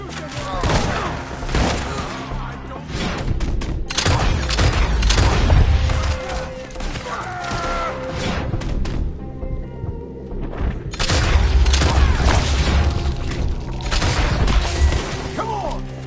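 Heavy gunfire volleys in Red Dead Redemption 2 boom and crash almost continuously, loud and dense, with shouting voices mixed into the chaos and a brief lull in the middle.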